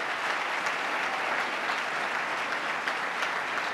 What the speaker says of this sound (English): Let's give the Comptroller a big round of applause and thank him for his great work.